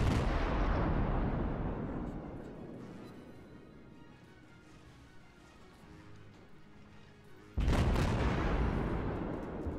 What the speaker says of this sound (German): Jo, da kommen schon die ersten Schüsse jetzt.